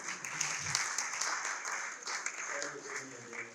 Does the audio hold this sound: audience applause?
yes